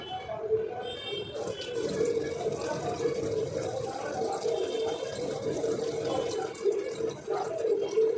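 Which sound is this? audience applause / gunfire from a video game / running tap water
running tap water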